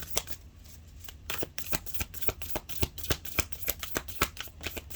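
Tarot cards being shuffled by hand, a close run of crisp riffling flutters and taps repeating rhythmically without pause.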